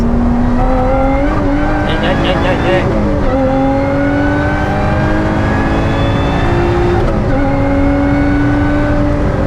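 A Lotus Exige S is driven hard around the Nürburgring, its engine note rising and falling through gear changes with loud, close in-car drone, while someone talks over it.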